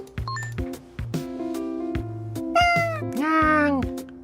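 A cute cartoon cat in a cozy cat video game lets out several loud, close meows, some rising and drawn out, over light, tinkling game music.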